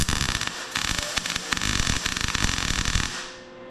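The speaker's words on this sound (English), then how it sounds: "And then I guess we're gonna try to weld it." Welding on a crashed Porsche Boxster produces a loud, close, continuous crackling sizzle with dense sputtering pops that lasts about three seconds and then cuts off.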